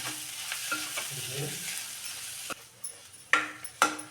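Potato stuffing for stuffed capsicum frying in a pan with fresh coriander leaves as it is stirred: a soft sizzle under repeated scraping strokes and several sharp clinks of the spoon against the pan, near and fairly quiet.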